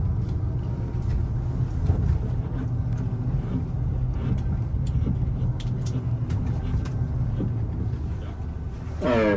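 Tour bus engine in Luxembourg, a steady low idling drone close by that runs throughout, with faint background noise and no clear talk.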